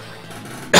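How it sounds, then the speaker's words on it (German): A single sharp cough bursts out at the very end, loud and close, after a stretch of quiet background hum during a Let's Play of Advance Wars. "Ich weiß nicht, was das ist mit meinem Husten heute."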